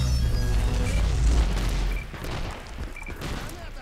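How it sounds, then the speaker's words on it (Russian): Orbital bombardment in a video game lands as a heavy, deep booming blast that rolls on loudly, then eases into a lower rumble with crackling debris. "Выполняем орбитальную бомбардировку."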